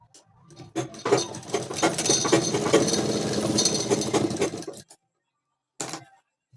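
A sewing machine runs a stitch along pant fabric in a fast, rattling burst of roughly four seconds, then stops, followed by a brief second clatter of the machine.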